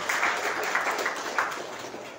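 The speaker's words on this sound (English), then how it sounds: "A big round of applause for Hon'ble Minister." Audience applause for a government minister at a public event, a steady wash of clapping from a crowd filling the whole moment with no voices over it.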